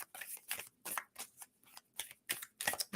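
Oracle cards shuffled by hand in a series of quick, crisp riffling bursts roughly every half second, close and clear with no talking.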